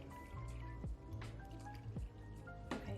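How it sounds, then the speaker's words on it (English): Milk pouring into a bowl for instant vanilla pudding, a soft close trickle with repeated drippy plops and gurgles, quiet and continuous for about three seconds. "So we're pouring some milk in"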